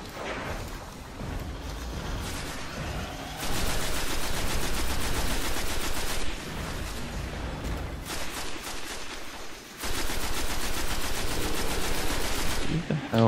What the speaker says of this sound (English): Who the hell is shooting me?